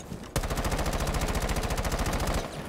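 An AK rifle with an angled grip fires in Rainbow Six Siege, a single unbroken full-auto burst of about two seconds. The shots are fast, even and loud, with nothing else heard over them.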